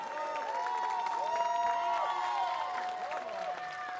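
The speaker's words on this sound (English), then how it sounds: "please give a huge round of applause for Leonardo" Crowd applause and cheers for the third-place driver at a Mini 60 karting race trophy ceremony in Abu Dhabi, steady clapping beneath a mix of voices and shouts.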